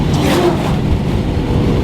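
A car engine fitted with a 625 CFM Street Demon carburetor runs held wide open under strong pull, giving a steady, close, throaty roar with slight fluctuations and no talking.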